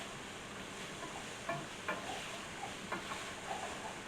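Flour and onion powder cook in a pan for beef stroganoff with a soft, steady sizzle, broken by a few faint clicks and light utensil taps, quiet and close.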